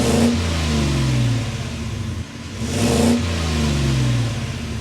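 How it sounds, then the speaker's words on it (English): A Ford F-150 Lariat's Coyote V8 engine revs up twice, its exhaust note swelling in loud, low rumbling bursts over a steady idle, heard close with no talking. "This is the Coyote V8. We need to go inside, start it up so you can hear that exhaust note."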